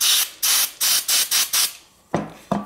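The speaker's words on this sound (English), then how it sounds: "we're gonna attempt to spray this" Aerosol cleaner sprayed onto the contacts of a Peg Perego Gator toy ride-on switch with a reverse-gear fault, six short bursts close up, then two quieter hisses after a pause.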